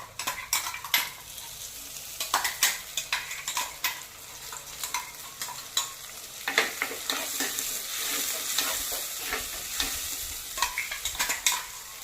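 Tomato paste mixture added to a hot pan for a Murrel fish curry, sizzling steadily while a utensil scrapes and clinks against the pan in repeated close, sharp strokes.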